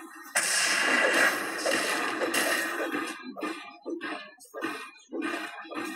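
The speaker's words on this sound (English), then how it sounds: "Radiant's bottom tower is under attack." Dota 2 game audio plays during a tower attack, with loud, heavy impact blasts and crackling bursts in a busy opening stretch, then a chopped series of repeated short hits as the playback stutters and freezes.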